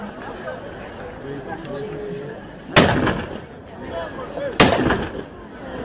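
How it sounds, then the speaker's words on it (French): Two sharp, loud musket shots ring out a couple of seconds apart at a Napoleonic battle reenactment, each with a booming echoing tail, over a background of crowd chatter and voices. "Coup de fusil."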